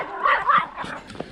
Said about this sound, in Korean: 강아지 놀랐어.